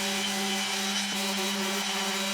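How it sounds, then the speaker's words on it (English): A powered sander works the edges of wooden trophies with 80 grit sandpaper, a continuous steady whine with strong tonal hum, close and loud throughout, no voices. "I'm starting with 80 grit, and I'll probably go up to 180 grit. Just sand these edges real quick"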